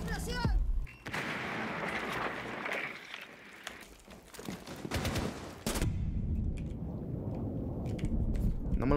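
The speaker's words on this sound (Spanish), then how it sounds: "Te meto tres tiros. Te meto un tiro más con la pistola." Several sharp pistol shots crack out in Rainbow Six Siege, loud and close, spread across the clip over a busy bed of game noise, with a player's voice talking in between.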